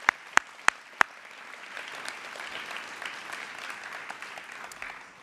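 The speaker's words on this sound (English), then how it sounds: "Okay, one final round of applause for 9C, please." Applause from a school promotion ceremony audience for a Year 9 class, opening with a few sharp separate claps before a steady, moderately loud wash of clapping fills the hall.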